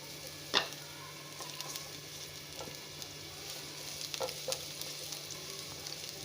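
Finely chopped garlic fries in a pan with a soft, steady sizzle and a few light clicks of stirring, fairly quiet and with no talking.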